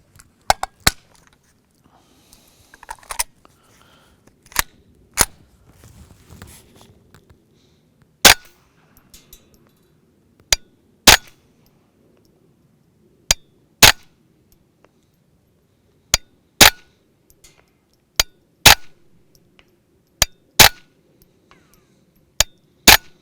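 Ruger 10/22 takedown rifle fitted with a Gemtech suppressor firing suppressed shots, about a dozen sharp muted cracks spaced irregularly a second or two apart, with faint handling noise between.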